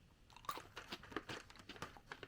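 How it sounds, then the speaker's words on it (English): Close, quiet crunching as someone chews Lindt Bear Bites, airy chocolate-coated crunchy balls, with a series of irregular crisp bites and munches alone. "They have like chocolate coating, but then they're crunchy."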